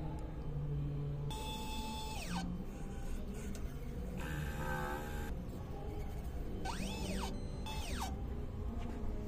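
An inkjet printer runs a head-cleaning cycle, giving off whirring motor bursts and rising-falling pump whines over a steady mechanical hum, close and continuous.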